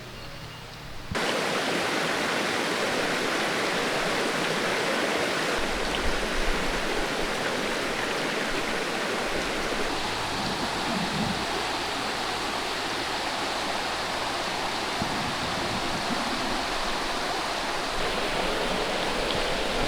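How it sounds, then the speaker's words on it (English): Steady, broadband rushing of a waterfall, loud and continuous after a brief quiet start, with no voices. "we gotta hike back to this to get to this waterfall"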